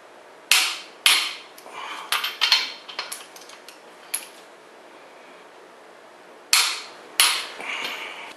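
Torque wrench tightening fasteners on a 440 Chrysler Mopar engine build gives sharp metallic clicks, a few spaced snaps then a cluster of quicker clicks, a pause, and two more close, crisp clicks.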